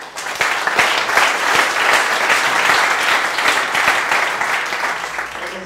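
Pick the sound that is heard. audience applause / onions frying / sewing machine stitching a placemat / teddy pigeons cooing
audience applause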